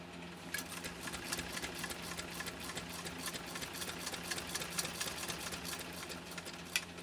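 A 1925 Singer 128 sewing machine runs steadily at speed, with a fast, even mechanical clatter and hum throughout and no voices.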